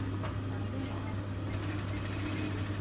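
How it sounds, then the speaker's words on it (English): A sewing machine stitching around a curved pocket bag runs at a rapid, even mechanical rattle, loud and close, starting after a steady low motor hum that runs under the whole clip. "we now need to stitch all the way around this pocket bag curve"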